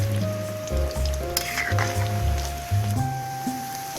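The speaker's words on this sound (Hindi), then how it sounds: "ये देखिए भी उसकी कितनी अच्छी तरह से फ्राई हो रहे हैं" Chicken mince nuggets fry in a pan with a close, crackling sizzle, while a voice speaks over them in short bursts.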